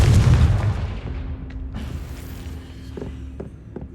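In the video game Hogwarts Legacy, a Confringo fire spell goes off as a heavy booming blast, followed by a creaking, rumbling decay and a few faint later knocks, with no talking.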